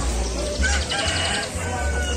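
Chickens and roosters at a busy traditional bird and chicken market in Gawok, Sukoharjo, crowing and clucking loudly and continuously over dense crowd noise and a low rumble.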